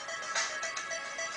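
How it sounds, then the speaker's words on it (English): A bright electronic ringtone chirps in quick pulsing tones, fairly loud and alone. "What is that sound? What? That's not my ringtone?"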